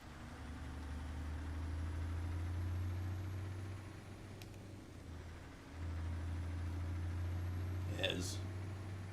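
Ford LTL 9000 truck engine idling in American Truck Simulator, a steady low diesel drone that briefly dips midway and comes back, with a short hiss near the end.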